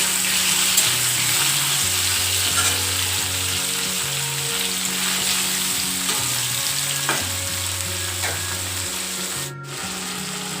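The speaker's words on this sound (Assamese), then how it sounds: "আৰু এইফালে মই বিলাহীখিনি মাৰিছোঁ।" Tomatoes frying in a pan give off a steady, close sizzle that runs the whole time beneath a melodic background music track with a stepping bass line.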